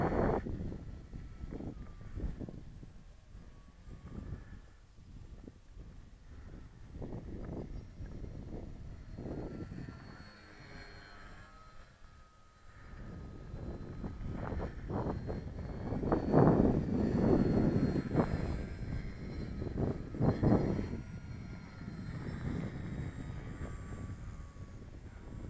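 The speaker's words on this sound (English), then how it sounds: "Da Vinci Flyer with small wing, christened the Da Vinci Racer. Full throttle pass." Small model Da Vinci Flyer with a shortened wing flying a full-throttle pass, its engine a steady buzzing drone that rises and swells as it passes, with wind buffeting the microphone.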